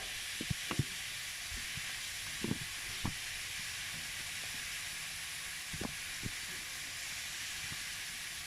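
Burger patties and onions sizzle on a griddle in a steady, faint hiss, broken by a few soft clicks and taps of handling, with no voices.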